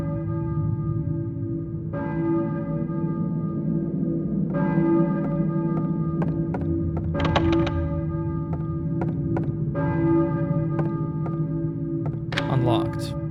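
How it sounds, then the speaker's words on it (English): Church bell tolling in the video game Silent Hill, a series of resonant strikes with long ringing tails, recurring roughly every two to three seconds over a low droning game ambience. "I hear a church bell, maybe."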